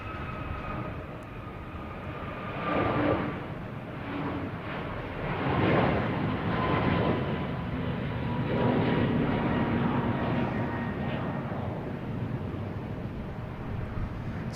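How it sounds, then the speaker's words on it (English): An Iberia airliner departing Boston Logan for Madrid gives a broad, steady roar at a distance that swells and fades gently over the span, with some wind noise. "Here we got Iberia heading back to Madrid."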